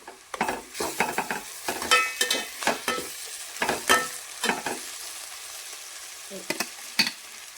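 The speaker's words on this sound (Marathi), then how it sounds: "आता हे अद्रक लसूण वाटलेलं आहे, हे टाकून घे त्याच्यामध्ये." Ground ginger-garlic paste frying with reddish-browned onions in a pan, a close bright sizzle broken by repeated scraping stirs in an uneven rhythm, no voices.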